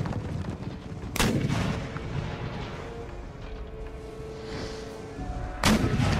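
Artillery cannons firing in the strategy game Empire Total War, two loud booming reports about four seconds apart over a steady rumbling battlefield backdrop.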